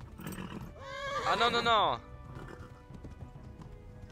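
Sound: horse galloping and neighing in video game Kingdom Come: Deliverance

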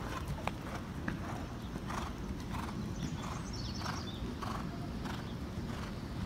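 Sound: horse hooves approaching a jump

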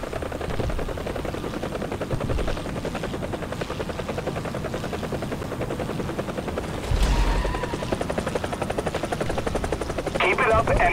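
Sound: helicopter in the video game War Thunder

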